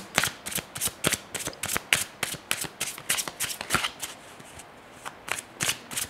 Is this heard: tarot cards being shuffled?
yes